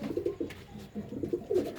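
Pakistani pigeons give soft, low, repeated cooing at close range. The calls come in short throaty bursts over a faint background hiss.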